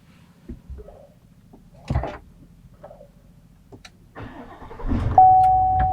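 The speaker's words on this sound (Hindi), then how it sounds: "मैं इसको स्टार्ट करता हूँ, ये सेल्फ स्टार्ट है, ठीक है, बटन प्रेस है" A 2019 GMC Sierra Denali starting with a push button: soft ticks and clicks, then the starter cranks and the engine catches into a rising, steady idle, close and clear.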